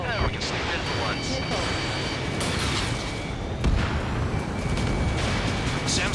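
A SAM site blown up in the jet combat game Ace Combat 7, heard as a loud dense rumble of booms and gunfire-like blasts with a sharp impact near the middle, under radio chatter.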